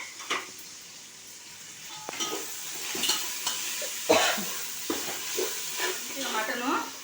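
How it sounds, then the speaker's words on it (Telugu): Mutton curry spices frying in hot oil in a home kitchen for a tomato rice and cucumber mutton curry, giving a steady sizzle with repeated stirring scrapes and clinks at close range, with no talk. "నూనెలో బాగా వేగిపోయినాయి అన్ని మసాలాలు"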